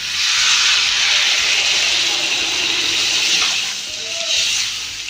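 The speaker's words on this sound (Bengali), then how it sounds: "এবার আমি অল্প জল দিয়ে দেবো।" Water poured into a hot pan of mixed vegetables sets off a loud, steady steaming hiss lasting several seconds, fading slightly near the end.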